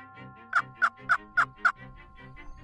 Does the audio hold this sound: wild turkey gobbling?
yes